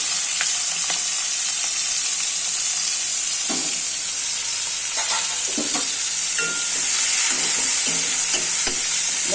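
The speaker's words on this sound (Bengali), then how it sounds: "পেঁয়াজটা দিলে একটু লাল লাল ভাজা হবে ভাজা ভাজা হবে" Onions sizzling steadily in hot oil with black cumin and green chillies, a loud continuous fry broken by scraping stirs and clicks of a spatula against the pan, no talking.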